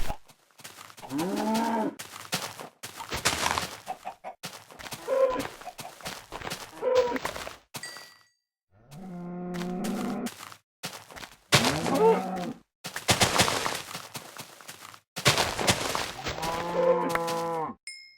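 Cows mooing in the video game Minecraft, a series of loud, drawn-out low moos repeating every couple of seconds, with brief clicks and thumps between calls.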